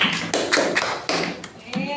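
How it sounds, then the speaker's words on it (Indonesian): A classroom group gives scattered, uneven applause for classmates who presented, heard as a few sharp, separate hand claps close by, with voices mixed in. "Tepuk tangan untuk kelompok"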